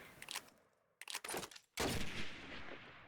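Rapid bursts of gunfire in Call of Duty 2 on the Burgundy map during a competitive playoff match, several volleys separated by short gaps, then a loud sustained stretch of shooting with no talk over it.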